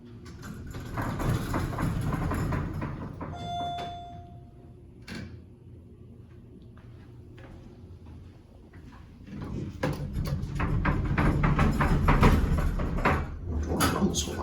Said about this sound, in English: Door rumbles a lot.